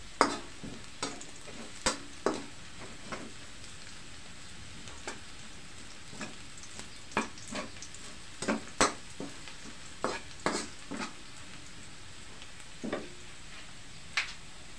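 Garlic frying in a pan while chicken tinola is started, a low sizzle under irregular sharp scrapes and taps of a utensil stirring, spaced every second or so, close and moderately quiet, with no talking.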